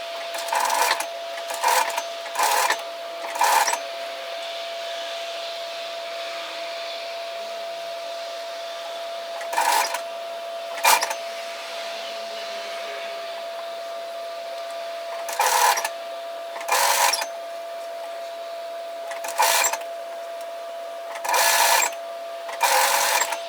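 Sewing machine stitching a gathering line on a tiered dress, running in a series of short bursts separated by pauses, close and clear against a steady background hum.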